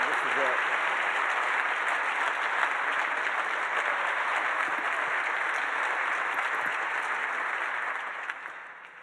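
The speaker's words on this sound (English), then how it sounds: "Can we give Mr. Mark Charles another round of applause?" An audience applauds a book author at a 2019 event, a long, even roar of clapping that holds steady and then fades toward the end.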